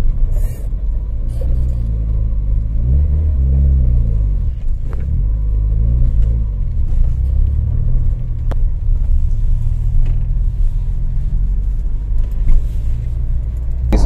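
A car creeps uphill over a speed bump with the accelerator held, its engine rumbling loud and close, revs rising and falling, and a few light knocks from the suspension.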